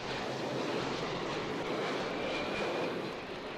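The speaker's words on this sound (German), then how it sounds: "Alle 5 Minuten zieht ein Flugzeug im Tiefflug über die Dächer hinweg." A low-flying airplane passes over the rooftops of Kowloon Walled City on its approach to Hong Kong airport in 1988. It makes a steady, broad engine roar that sounds somewhat distant and muffled, with no voices.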